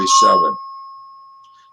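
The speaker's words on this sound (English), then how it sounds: "That's a fire alarm bell in my quarters." A fire alarm bell in living quarters strikes once with a clear ring that hangs as a pure sustained tone and slowly decays, starting under a brief spoken word.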